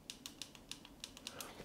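Control buttons on a TrueCam H25 4K dashcam are pressed one after another, giving about ten crisp, faint clicks in an irregular rhythm with no talking.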